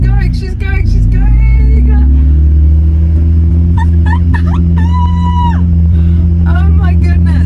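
A revived project car's engine running with a deep, loud, steady rumble close by, while voices talk excitedly over it.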